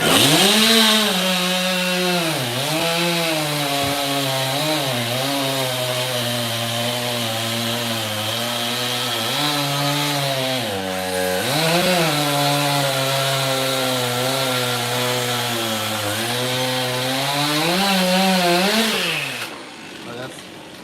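A Milwaukee battery chainsaw, billed as a 70cc gas equivalent, cuts steadily through 18-inch diameter wood, its loud, close whine holding nearly constant with brief dips as the chain bites, then cutting off at the end.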